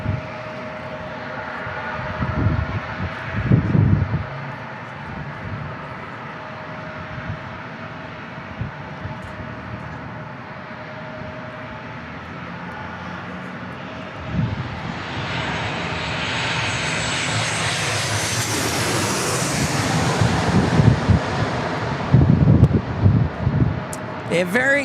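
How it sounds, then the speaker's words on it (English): A Southwest Airlines jet comes in to land at San Diego International Airport, its engine noise swelling into a loud rushing roar near the end while people talk over the hum of the airport. "Got Southwest Airlines getting ready to land, it looks like."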